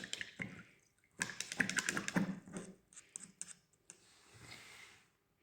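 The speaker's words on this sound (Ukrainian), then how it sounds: "Миємо пензлик." Paintbrush rinsed in a water jar during a children's painting lesson: a run of quick clicking taps and splashy swishes of the bristles against the glass, close and fairly quiet, then a softer trailing swirl.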